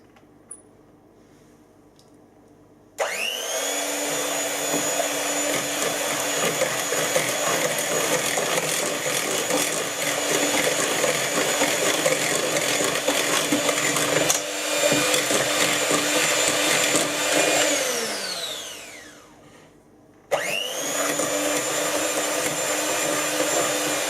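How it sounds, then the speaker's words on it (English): An electric whisk beats caster sugar and eggs for a Christmas log cake, a loud steady whir that starts abruptly, runs on, winds down and cuts out, then starts again. "we're going to take our electric whisk and we're going to whisk this until it's"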